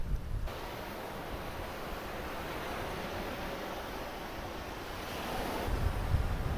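Waves wash onto a rocky beach below cliffs on Koh Lanta island, a faint, continuous rushing surf with some wind noise, swelling slightly near the end and free of speech.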